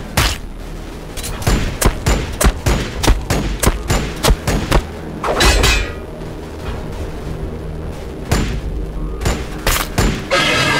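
Rapid bursts of gunfire and booming explosions from a Warhammer 40,000: Battlesector battle on the Mortis Radzone map, loud and dense volleys with brief lulls between clusters of shots.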